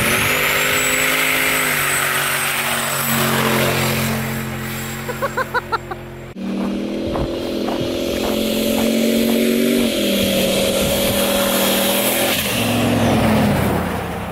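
Turbocharged LS-swapped Ford Ranger 4x4 with a 4L80E transmission pulls hard across glare ice, engine revving loud and close through rising gear sweeps with brief shift breaks and turbo whine, continuous throughout.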